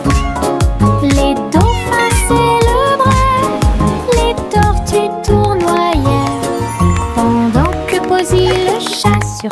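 Cartoon cat sings in meow-like tones through a bouncy children's song about a surfing cat in Hawaii, with steady full musical backing and a loud, continuous melody.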